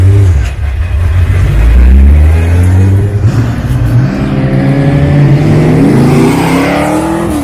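A TWR Ultima GTR pulls away on the Goodwood circuit, its engine loud and close, with a rising, revving drone that climbs through the gears.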